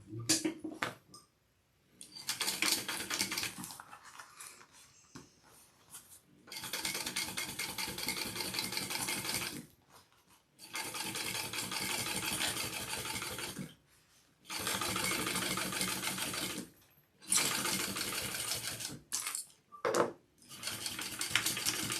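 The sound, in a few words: sewing machine top stitching backpack layers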